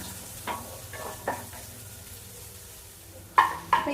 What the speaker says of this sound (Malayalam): അപ്പൊ അത് നമ്മളിട്ട് കൊടുത്തിട്ട് ഒന്ന് വഴറ്റണം.